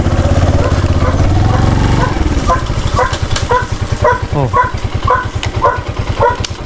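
Motorcycle engine idling with a steady low chug beside a dry rice field, loud and close, with voices talking over it and brief sharp sounds like dog barks cutting in.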